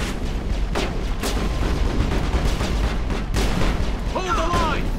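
Gunfire in a firefight in the video game Mass Effect, a steady loud barrage of shots and booms with voices calling out over the noise.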